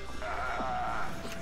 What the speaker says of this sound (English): pretty fast for a pig